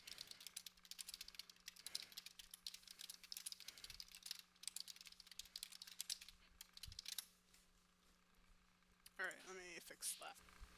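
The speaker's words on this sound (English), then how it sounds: "I'm typing so fast." Rapid, close typing on a computer keyboard during a live character-design session: dense, irregular clicks over a low steady hum, pausing for a moment before a short burst of speech near the end.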